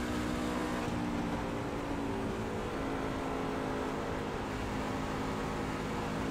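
A race car engine drones steadily through the whole stretch at close range, with a constant harmonic whine and no voices.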